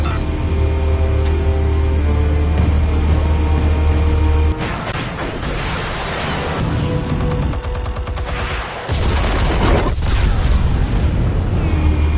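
Armed explosives detonate in a Batman Telltale game scene, a long, deep rumbling blast with crackling debris and gunfire-like bursts, shifting into sharper impacts midway before the low roar swells back.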